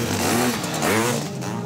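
Racing mopeds at a Frisian autocross event with 180 riders and about 2,000 spectators, engines buzzing and whining loudly and continuously with rising and falling pitch as the machines pass near.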